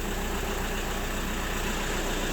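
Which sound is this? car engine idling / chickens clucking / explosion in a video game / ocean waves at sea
car engine idling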